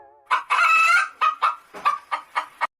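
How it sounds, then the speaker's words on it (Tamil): A black-and-white hen clucks close and loud in a run of short, rhythmic calls, one longer drawn-out squawk near the start followed by several quick separate clucks. "கருப்பும் வெள்ளையும் கலந்த மாதிரி ஒரு கோழியை வாங்கிட்டு வந்தாச்சு"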